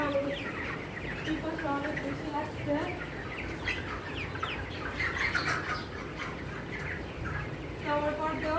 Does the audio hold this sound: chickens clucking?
yes